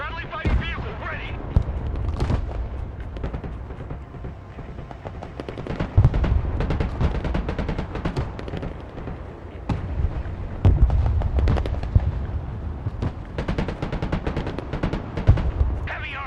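Artillery barrage in the video game Broken Arrow, dense booming blasts and rattling gunfire rolling continuously, loud and near, with radio-style voices talking intermittently over the battle.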